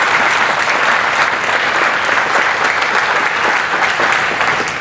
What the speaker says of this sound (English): Let's give the Republicans in the Iowa legislature a round of applause